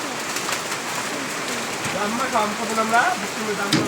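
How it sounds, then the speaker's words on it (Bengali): Steady rain with small hailstones patters outdoors, a continuous close hiss with scattered harder ticks, while pigeons coo faintly in the background. "দেখো কত ছোট্ট ছোট্ট ঘুরি ঘুরি শিলা পরে"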